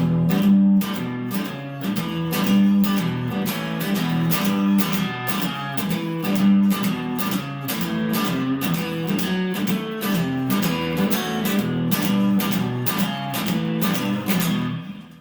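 An electric guitar plays a shuffle rhythm with left-hand string muting, giving steady, driving strums broken by percussive muted scratches across a continuous, loud passage.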